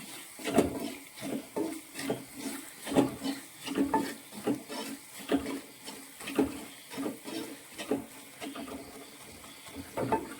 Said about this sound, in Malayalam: കാശ്മീരി ചില്ലി പൗഡറും മുളക് പൊടിയും കൂടി മിക്സ് ചെയ്തത് ഒരു നാല് സ്പൂണ് ചേർക്കുവാണ് നന്നായിട്ട് വഴറ്റിയെടുക്കണം